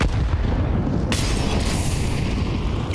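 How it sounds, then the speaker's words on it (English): Grenade blasts in a Counter-Strike esports match: loud, dense booming explosions one after another, a sharp fresh burst cutting in partway through, filling the whole mix with continuous rumble. "Heavy nade exchange."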